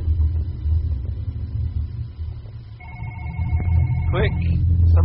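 In a horror video game set in a night-time office, a phone begins ringing with a repeated electronic trill partway through, over a constant low droning rumble.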